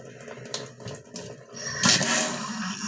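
Water runs from a faucet into a sink during hand washing, a close, steady rush that swells louder partway through.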